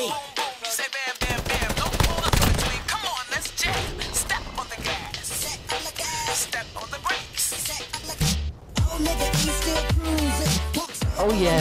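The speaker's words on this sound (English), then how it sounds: "Oh, someone's shooting." Rapid automatic gunfire rattles through a video game in long continuous bursts, loud and dense for the whole stretch, with brief pauses and a voice occasionally heard over it.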